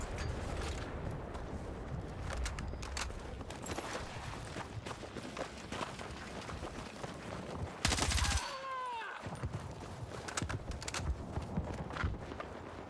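AK rifle gunfire in Battlefield 6, rapid continuous shots crackling through busy game noise, with a loud explosive burst partway through followed by a descending whistle.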